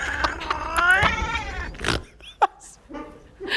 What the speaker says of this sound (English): My favorite cat in the world.